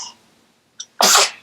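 A single loud, close sneeze bursts out after a brief quiet pause and a small preceding breath.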